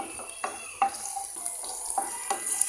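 Onions and green chillies being stirred in oil in a pan, with quick repeated scraping strokes of a spatula over a faint sizzle, fairly close and without speech.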